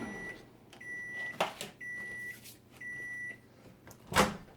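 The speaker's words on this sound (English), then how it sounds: "Opening the microwave." A microwave heating tortillas hums with its high tone, broken by a few clicks and thumps, then a louder clunk near the end as the door opens.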